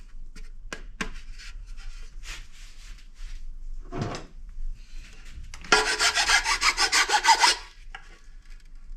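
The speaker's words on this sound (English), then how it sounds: "Boy, that just really kind of sounds like plastic." Someone handles a plastic part of a scale fitted with LED lights up close: scattered clicks and taps, a dull knock, then a rough scraping rub lasting a couple of seconds before quieter handling noises.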